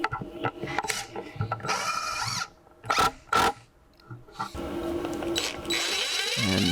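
A power driver sinks the last screws into wooden supports of a tool wall organizer, giving several short whirring bursts separated by pauses, with workshop handling noises in between.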